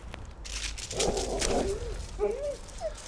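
A nervous Red Fox Labrador gives short, low growling and whimpering vocalizations in two brief bursts, fairly close and moderately loud against a quiet room.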